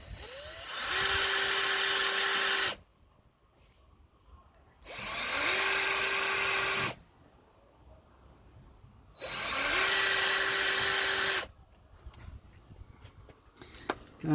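A power drill opens out holes for fitting VW jail bars, whining in three steady high-pitched bursts of about two seconds each, separated by short quiet gaps, loud and close with no speech.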